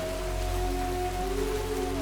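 Steady rain falls in a desert setting, a constant close hiss of drops on a surface with a faint tonal hum beneath and no talk.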